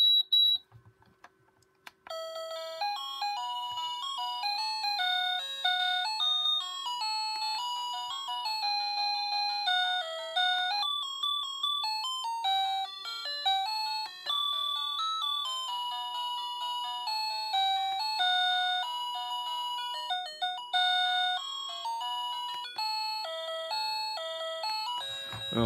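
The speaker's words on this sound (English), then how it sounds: "there's some alarm sounds. If I can get those going." An electronic calendar clock kit, assembled from a soldering kit, plays its alarm: a long, steady run of bright, beeping electronic tones in a repeating melodic pattern. The alarm sounds close and continuous for over twenty seconds, with no talking.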